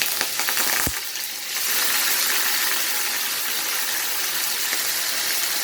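Peppers and leek frying in a pan for Jamaican cooking, a continuous loud sizzle with a sharp clack early on, after which the hiss swells and holds steady.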